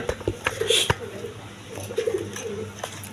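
Pigeons at a market stall, a mix of breeds including colouring Rajgola, give soft low cooing phrases in short bursts, close by, with someone talking throughout.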